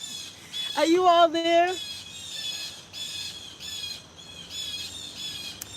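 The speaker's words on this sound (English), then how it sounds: "A whole bunch of them making a lot of noise." Garden birds squawk noisily and in alarm, a loud close squeal early on followed by a sustained chorus of harsh calls, with a person speaking briefly over them.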